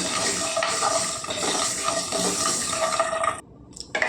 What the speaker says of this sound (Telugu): ఆవాలు చెట్టుపట్లు ఆడుతున్నాయి చూడండి